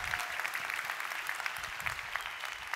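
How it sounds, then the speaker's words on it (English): An audience at a real estate seminar applauds Ricardo, a dense, steady wash of clapping that holds at an even level throughout without voices. "Give Ricardo an even bigger round of applause"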